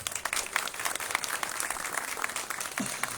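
Steady applause from a crowd at a sports facility opening ceremony, dense and continuous with no clear pauses, moderately loud throughout.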